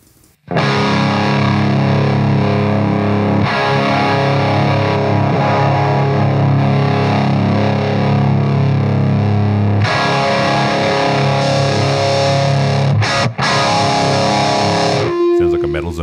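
Heavily distorted electric guitar through a Boss GT-1000 processor into a tube amplifier: a dense, saturated sustained wall of chords lasting most of the span, loud and close, ending with a short break and a lone held note.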